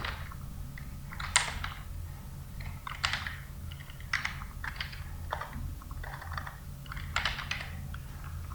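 HTML code typed on a computer keyboard: close, uneven bursts of clicky keystrokes with short pauses between words, over a faint steady hum and no speech.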